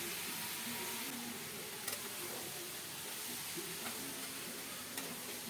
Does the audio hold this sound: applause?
no